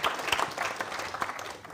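Brief, fairly quiet crowd applause at a live FCIA2024 event, dense clapping from an audience that tapers slightly toward the end.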